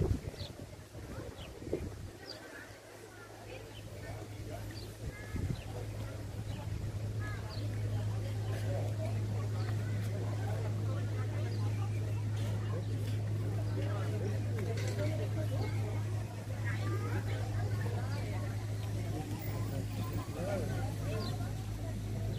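A large tour boat runs on a river near the Veitshöchheim palace, its engine a steady low drone under wind noise and someone talking.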